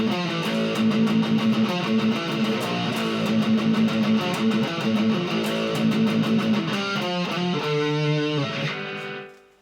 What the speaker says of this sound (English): After the intro, it goes into the verse riff, which sounds like this